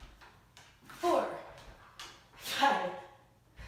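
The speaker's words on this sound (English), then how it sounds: "Again, sorry about my dog." A pet dog barks and whimpers in a few short bursts nearby, loud yips rising over quiet room tone between them.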